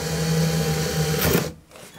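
A power drill bores out a rivet on a BMW E36 with a steady, close motor whine that cuts off abruptly after about a second and a half.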